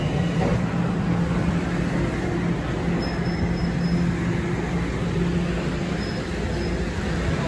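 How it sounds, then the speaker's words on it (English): Steady low rumble of an automatically driven Toronto TTC subway train pulling slowly into a station, with faint intermittent high squeals from the wheels and no voices. "this train is going in slow because it's driven automatically"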